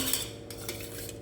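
Metal slotted spoon clinking and scraping against a pot while lifting boiled, softened soybeans out of their cooking water, a steady series of close, light metallic taps with no talking.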